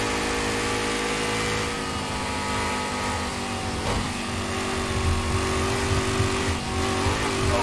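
A turbocharged car engine in a VR racing game drones loudly and steadily throughout, holding a sustained revving tone with slight pitch shifts and no speech.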